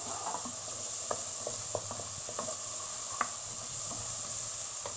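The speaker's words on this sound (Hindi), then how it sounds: "इसमें हम डालेंगे अदरक, लहसुन, यस हरी मिर्च का पेस्ट, तीनों डाल के भूनेंगे" Ginger, garlic and green chili paste frying in a pan with softened ingredients, a steady low sizzle with scattered soft stirring clicks and one sharper tap, fairly quiet and close.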